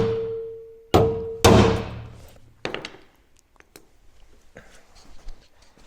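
Hammer blows on a stuck door bolt of a 1980 Chevy Silverado being removed: a few loud, close metallic thunks spaced about half a second to a second apart, then lighter knocks fading out.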